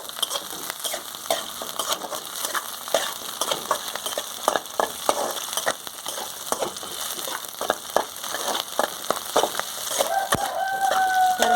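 Eggplant sautés in a pan for kathirikai gothsu: a steady, close sizzle with frequent scraping stir strokes throughout, and a faint rooster crow in the distance near the end.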